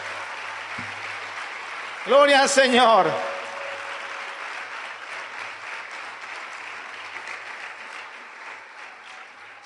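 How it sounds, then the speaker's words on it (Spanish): Congregation in a church service clapping for the Lord, a steady broad wash of applause that swells after a voice loudly calls out praise in Spanish and carries on to the end. "Y de un aplauso al Señor. Apláudale al Señor."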